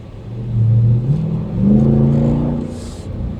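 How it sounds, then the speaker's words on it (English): A 2024 Dodge Durango SRT 392 Alchemi V8 engine and exhaust accelerating on a road, a loud, deep rising roar that swells twice over a few seconds, heard from inside the SUV. "We'll get to hear a little bit more of this engine and the exhaust sound going through these"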